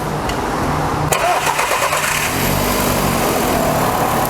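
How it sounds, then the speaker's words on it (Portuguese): A Fiat Línea 1.8 E-torq with a reported engine noise fault cranks briefly and catches, then settles into a steady, loud close-up idle with a slight rise in revs. "Ô Douglas, liga o motor, por favor."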